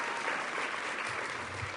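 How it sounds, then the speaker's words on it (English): Audience applause at the 2011 Congressional City Conference of the National League of Cities, a steady wash of clapping from a large hall, moderately distant and even, without speech. "Let's give them a round of applause."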